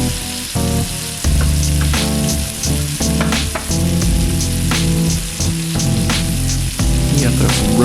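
Butter sizzling loudly in a pan with a ribeye steak and excess grease, dense popping and spitting close by, with a steady hum underneath and no voices.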